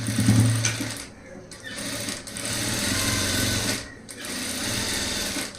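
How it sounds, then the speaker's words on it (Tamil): A sewing machine runs a second row of stitching on a poonam saree blouse, whirring steadily and close by in bursts with short pauses between them, and no one speaks over it. "அதனால் ஒரு புது ரெடை கேப் போட்டு இன்னும் தையல் போடுறேன்."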